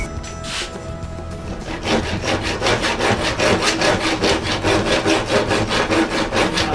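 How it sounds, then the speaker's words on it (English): Handsaw cutting through a wooden board, a steady rhythm of rasping back-and-forth strokes that starts after a brief pause and continues evenly, close and clear with no voices. "I'm doing the cutting with a handsaw because I want it to be very precise"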